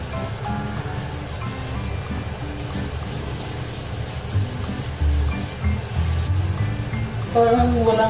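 Scrubbing a surface while cleaning a house, a steady rough rubbing close by, punctuated by a few louder knocks and a voice talking near the end.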